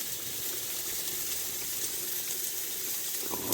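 Homemade chicken curry simmering in a pot on a wood-burning stove inside a hot tent, giving a steady, close hiss of bubbling and sizzling with a louder burst near the end, and no talking.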